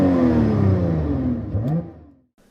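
Lotus Evora GT engine blips as the throttle is tapped, a brief mid-pitched rev that rises and settles over about two seconds before cutting to quiet.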